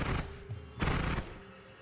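A minigun turret firing in the video game Noita, two short bursts of rapid, blasting gunfire close up, separated by a brief gap, the second burst trailing off into a low rumble.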